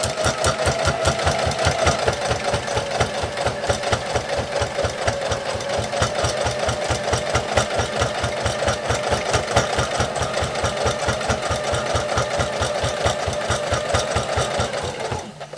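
A sewing machine stitches down a potholder towel with a fast, even, rhythmic chatter that runs loud and close without a break for about fifteen seconds, then slows at the end.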